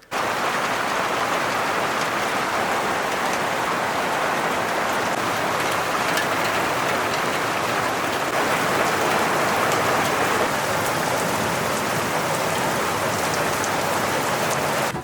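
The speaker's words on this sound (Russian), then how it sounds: "И вот тем не менее идет дождь." Light rain falls steadily in sunshine at a village homestead, a dense, even patter of drops hissing continuously on surfaces nearby, unchanging throughout with no voices.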